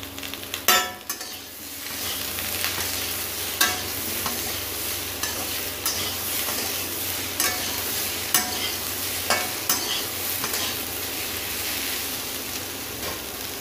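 Vegetables fry lightly in a pan, giving a steady close sizzle broken by periodic spatula scrapes and knocks throughout.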